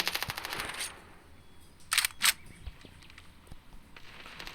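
A machine gun firing in the mobile shooter Standoff 2, starting with a rapid burst of shots, then two short bursts after a pause, with faint clicks and footsteps in between.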